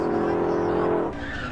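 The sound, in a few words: Mustang racing at drag strip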